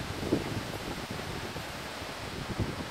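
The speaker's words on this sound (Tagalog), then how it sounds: "lakas ng hangin guys" Strong typhoon wind in South Korea rushes and buffets steadily against the microphone, a dense, rumbling roar with no voices.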